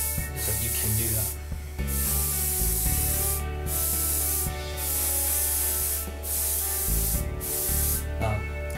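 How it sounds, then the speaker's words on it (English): A dual action airbrush sprays primer onto a miniature Furioso Dreadnought, giving close, steady bursts of airy hiss that start and stop in repeated runs over a few seconds each. "just cut your airbrush to air and blow air on top instead to help dry the paint"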